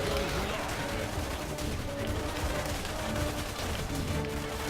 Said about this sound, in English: The artillery will deal with the turrets though, at least.